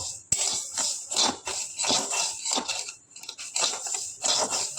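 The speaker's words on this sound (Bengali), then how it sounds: "চালটাকে প্রথমে একটু খোলা কড়াইয়ের মধ্যে একটু জাস্ট নেড়ে ছেড়ে ভেজে নেবে" Rice dry-roasting in an open wok with no oil, a utensil scraping and stirring the grains in steady rubbing, rattling strokes, close and fairly soft, with no talking.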